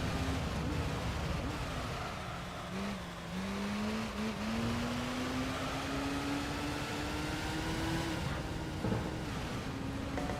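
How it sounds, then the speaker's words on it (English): A Gran Turismo video game car engine drones loudly and steadily during a license test, its pitch slowly rising with a whiny electronic tone, sounding oddly glitchy and unchanging from an audio bug. "I think the car has a weird audio bug."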